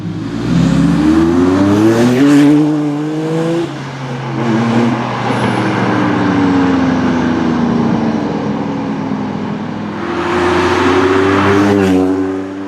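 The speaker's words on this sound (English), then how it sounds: "This car is known as the XJ220 twin turbo powered by a 542 brake horsepower V6 engine." A Jaguar XJ220 sports car's 542-horsepower twin-turbo V6 roars and revs, rising and falling through gears as it passes, loud and close with a brief tire squeal.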